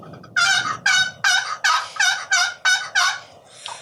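A box call imitates a mature hen turkey with a steady run of about eight evenly spaced, loud yelps close up, ending in a softer trailing note.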